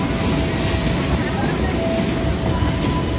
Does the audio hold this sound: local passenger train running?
yes